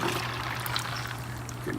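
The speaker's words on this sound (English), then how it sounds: "take the boiled brine and pour that right in there" Hot boiled pastrami brine pours into a container of ice water, making a steady, continuous liquid rush with a low hum beneath it throughout.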